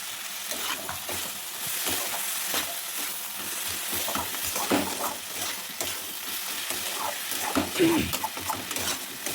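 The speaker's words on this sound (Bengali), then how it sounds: "ভালো করে নেড়ে চেড়ে নামিয়ে নেব" A bottle gourd and shrimp curry is stirred in a pan, with continuous scraping and sizzling frying throughout at a steady, moderately loud level.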